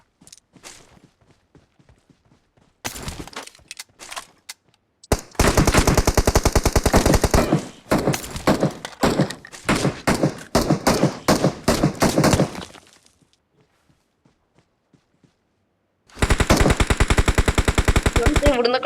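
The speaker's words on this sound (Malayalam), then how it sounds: "ഇവിടുന്നൊക്കെ വെടി വരുന്നു." Bursts of automatic gunfire in the mobile battle-royale game BGMI, loud rapid volleys in several clusters separated by quieter gaps, with faint footsteps in between.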